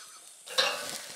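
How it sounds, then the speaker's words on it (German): Salami sizzles and crackles steadily on a hot grill, the hiss swelling louder midway with faint scraping. "Wir müssen heute Salami grillen."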